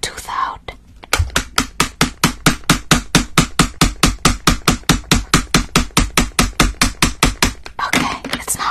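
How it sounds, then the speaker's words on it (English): Hammering in a dentist roleplay: a long, steady run of rapid, evenly spaced taps, close and loud, roughly four per second for about seven seconds, with soft whispery noise before and after. "I'm gonna hammer it to try and get your tooth out."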